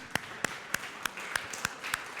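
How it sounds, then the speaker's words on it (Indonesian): Sparse, evenly spaced hand claps from a church congregation at a Sunday worship service, honoring Sunday school members, about eight sharp claps at a steady slow rhythm over a faint room murmur. "Silahkan, tepuk tangan."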